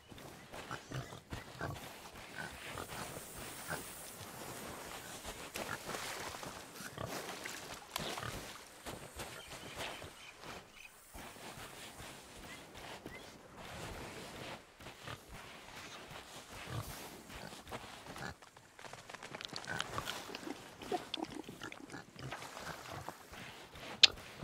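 Pigs in the pirate game Sea of Thieves grunt and oink in a jumble of snorts and squeals, close and fairly loud, ongoing with a few quieter gaps.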